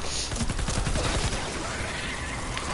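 A dragon gun fires in a video game, a loud, continuous stream of rapid shots with no pauses throughout.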